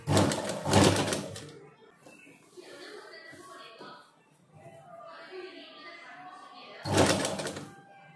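A sewing machine stitches a half collar neck in two short, rapid bursts of whirring at the start and end, with someone talking in between.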